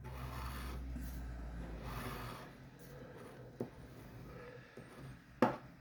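Coin-scratching on a scratch-off lottery ticket, a soft, close rasping rub in short strokes with a couple of sharper scrapes near the end, quiet overall.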